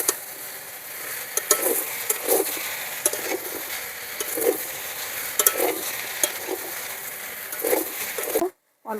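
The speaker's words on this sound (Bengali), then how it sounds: "দিয়ে মাছগুলোও ফিরে ভালো করে ভেজে নেব" Prawns and Malabar spinach (pui shak) frying in a pan give a steady close sizzle, broken by repeated stirring scrapes and clinks of a utensil, with a short silence near the end.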